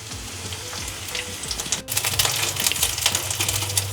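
Ginger garlic paste frying with onions and green chilies in a pan for an egg tarka, a dense crackling sizzle with rapid ticking spatters and a brief dip midway, steady and close.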